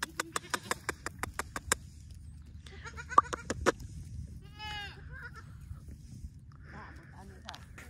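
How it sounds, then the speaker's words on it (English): Several goats on a farm in the Philippines bleat in short wavering calls after a run of sharp clicks, with people talking quietly in the background. "Look at all these adorable Filipino goats."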